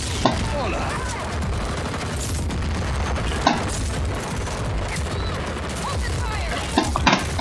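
Enemy gunfire in the Just Cause 4 video game crackles as a dense, continuous fusillade of rapid shots, with a few sharper bangs standing out, while a person talks over it.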